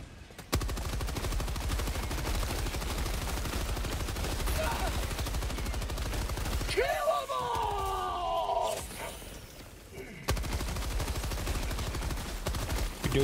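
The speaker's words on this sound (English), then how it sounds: "Alright, I got the machine gun." A Helldivers 2 machine gun fires continuously in a dense, steady roar that breaks off for a few seconds, filled with other game sounds, then resumes, loud and close throughout.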